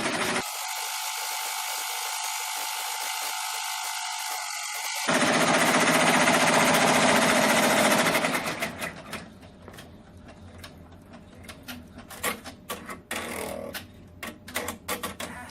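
A Brother PR655 embroidery machine stitches lettering on faux leather clipped to a fast frame, giving a steady, loud mechanical chatter that shifts in texture partway through and then turns to rapid, irregular ticking and clattering.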